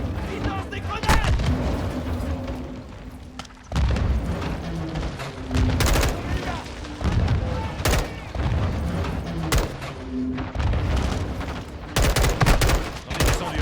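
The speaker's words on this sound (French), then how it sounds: "Attention! À couvert! Ils lancent des grenades!" Call of Duty Black Ops battlefield combat brings rattling bursts of gunfire and several sharp booming grenade blasts, loud and close. Shouted soldier voices sound in between the shots.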